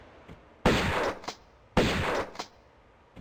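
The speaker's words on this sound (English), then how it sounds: "maybe I'll get the shotgun out here because we do have a panther out here" A shotgun fires twice at a panther in Tomb Raider I Remastered, each game blast a loud broadband burst with a short decaying tail and a small echo click, spaced about a second apart.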